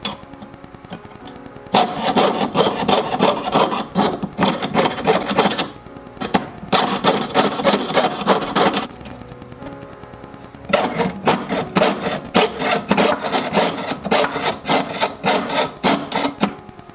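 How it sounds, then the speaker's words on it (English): A jeweler's hand saw cuts a tiger's tail pendant shape, giving steady rapid rasping strokes in three long bursts with short pauses between, close and fairly loud. "Alright, let's go ahead and get sawing now."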